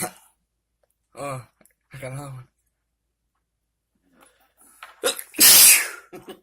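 Two loud sneezes set off by strongly perfumed hemp flower, the first a short burst and the second a big, sharp blast near the end, with someone speaking briefly in between.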